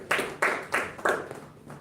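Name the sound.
audience clapping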